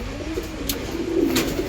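Low, throaty cooing rises and falls from several pigeons in a breeding loft holding Malabar, Golden, Teddy and Giribaz birds, close and steady, with a couple of brief sharp clicks and no voices.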